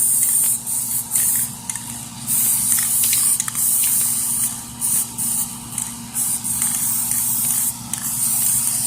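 Black spray paint hisses from an aerosol can in repeated short bursts and longer sprays around the edges of planet shapes, close and fairly loud with brief gaps between passes.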